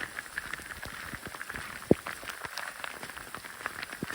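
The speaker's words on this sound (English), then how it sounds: "And it's hailing now." Hail comes down steadily in a storm on the Colorado Trail, a dense pattering of small icy hits on gear and ground, close and continuous, with one sharper louder strike standing out partway through.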